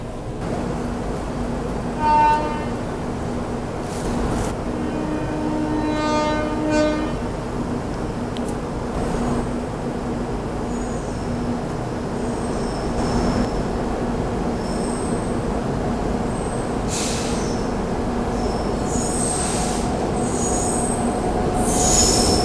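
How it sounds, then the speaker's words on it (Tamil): The SMVT Bengaluru–Karaikal Express rolls past at a crossing, with a long continuous rumble of wagons and loud, sustained wheel squeal. It stays close and strong throughout, and a short toot sounds early on. "அடுத்து எஸ்எம்பிடி பெங்களூரு காரைக்கால் எக்ஸ்பிரஸ் வருது"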